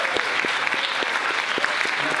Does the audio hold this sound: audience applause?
yes